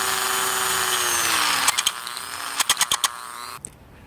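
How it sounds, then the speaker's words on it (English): A low-speed power drill grinds away excess epoxy on a Starboard 95cm foil mast, first a steady close whirr that winds down, then a series of short, sharp bursts before stopping. "I have a drill with a low speed."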